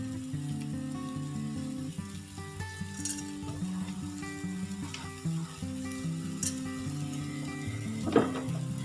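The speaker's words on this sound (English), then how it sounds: "And now we just brown them." Meatballs browning in oil in a pan for sweet and sour meatballs give off a steady, even sizzle that runs unbroken through the whole stretch, with faint tonal sounds in the background and no voices.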